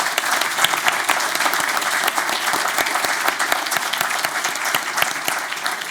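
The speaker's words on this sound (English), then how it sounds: "let's give a big round of applause for Ezra and Phaedra." An audience at a panel event on LGBTQ+ activism in sport applauds steadily, dense close hand claps sustained at even loudness throughout with no talk over them.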